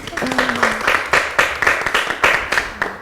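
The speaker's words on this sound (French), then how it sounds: "On l'acclame quand même, non?" Audience at a Kinshasa talk-show event applauding, a brisk burst of many hands clapping at close range for a few seconds, with a voice briefly audible over it.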